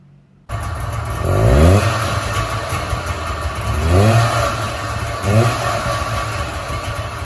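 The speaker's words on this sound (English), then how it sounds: "2-stroke engine" A DKW Candango's simple three-cylinder two-stroke engine starts and idles, then revs up three times in quick rising bursts, close and loud, alone with no voices.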